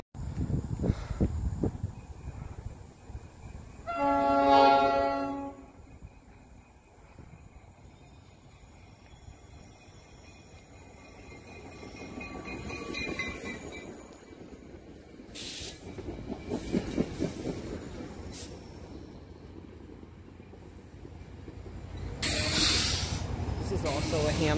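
An EMD F40PH Metro-North locomotive sounds a loud, sustained multi-tone horn salute lasting a couple of seconds, followed by the rumble, hiss and squeal of a passing train with faint voices.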